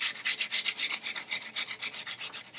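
Paint is rubbed off a French chair's frame with quick flicking strokes to distress it, making a close, loud, steady rhythm of scratchy rubbing passes with no voices.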